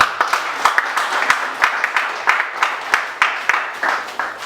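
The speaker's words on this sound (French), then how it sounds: "Si nous pouvons applaudir encore une fois pour le professeur" At a ceremony honouring a dental surgeon professor, a modest audience claps, with distinct individual claps landing in a loose, uneven rhythm over a thin wash of background applause.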